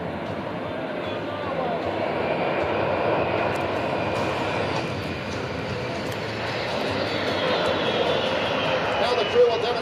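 C-17 military transport jet passing at an airshow, a broad, steady roar that swells gently as it flies, with an announcer talking over the engine noise.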